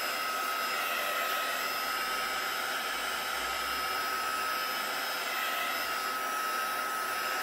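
A heat tool blows steadily for the whole stretch, a loud, even broadband whoosh with no talk as it dries ink on a heat-proof mat during a stamping and distress ink session.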